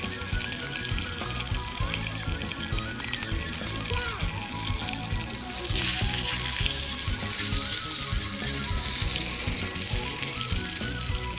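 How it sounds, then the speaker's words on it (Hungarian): Mangalica bacon sizzles in a pan as its fat renders for frying Mátra-style disc cakes, a steady crackling hiss that grows brighter and louder about halfway through. "Zsírban kell kisütni, ezért egy kis mangalica szalonnából nyerünk egy kis zsírt."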